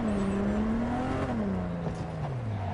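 Car engine in the video game Cyberpunk 2077, a steady close droning hum whose pitch rises slightly and then falls away as the car slows, with faint road whir underneath and no talking.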